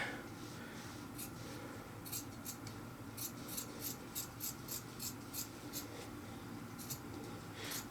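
Scissors snipping the bottom seam off an old cotton T-shirt, a run of quick, crisp cuts in an uneven rhythm, close but soft against a quiet room hum.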